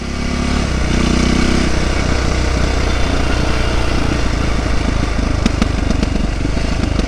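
A Yamaha YZ450F dirt bike engine, freshly rebuilt with Hotcams installed, runs steadily and loudly up close, its pitch and rhythm changing as it moves up through third, fourth and fifth gears.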